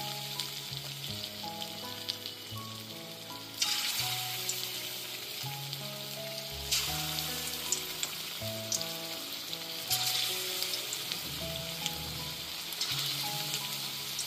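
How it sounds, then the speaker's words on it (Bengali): Marinated chicken pieces drop one by one into hot white oil in a kadai for chilli chicken, each addition setting off a fresh loud burst of sizzling over a continuous crackling fry, with no speech. "এবার এতে ম্যারিনেট করা সমস্ত চিকেনের পিসগুলোকে একে একে দিয়ে দিচ্ছি।"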